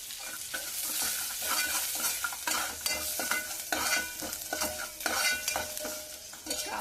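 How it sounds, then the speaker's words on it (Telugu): Dried red chillies, curry leaves, coriander and turmeric frying in a hot pan for pudina pachadi, a steady close crackling sizzle broken by repeated stirring scrapes, with no talk over it. "ఇది కాస్త ఎండుమిర్చి వేగిన తర్వాత కరివేపాకు, కొద్దిగా కొత్తిమీర వేసుకున్నాము."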